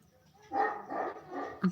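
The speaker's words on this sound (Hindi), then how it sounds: "देखो बहुत भौंक रहा है ना" A dog barks a few times nearby, short rough yelps in quick succession with a faint murmur of background room noise.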